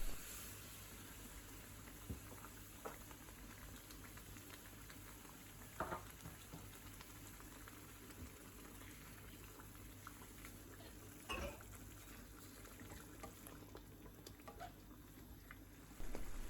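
Vindaloo curry with hot water and tomato slices simmers in a pot and is stirred now and then, giving a soft, faint bubbling hiss with occasional light scrapes and knocks of a spoon against the pan.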